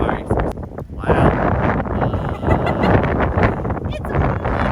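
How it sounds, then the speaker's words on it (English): Strong wind buffets the microphone outdoors, a steady low roaring rumble with gusting swells that runs loud for the whole stretch and never lets up. "It's windy!"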